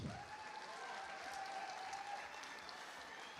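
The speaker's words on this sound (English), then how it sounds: "A round of applause, another round of applause." Conference audience applauding steadily at an agroecology event, a dense wash of clapping throughout with no voices.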